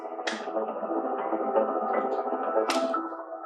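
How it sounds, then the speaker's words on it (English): Focus music plays a steady, layered drone of sustained tones with binaural beats, even and calm, broken by two brief brighter chime-like accents. "And it uses binaural beats,"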